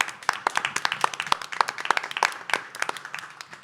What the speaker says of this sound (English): I just want to give them a quick round of applause